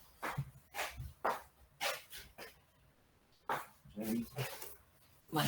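A dog barks in a quick series of sharp, close bursts with short gaps between them, and a person's voice is mixed in among the barks.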